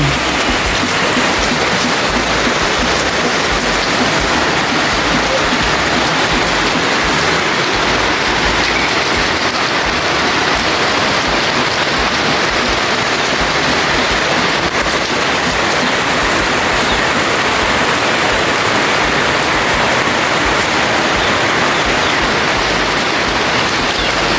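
Torrential typhoon rain pours down at a home in the Philippines, with gutters overflowing. It makes a constant, loud, hissing wash that stays steady and unchanging throughout.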